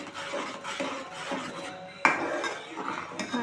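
A spoon scrapes and clinks against a pan while stirring masala for paneer curry, a run of rhythmic metallic scrapes with one sharp clank partway through, close and fairly quiet.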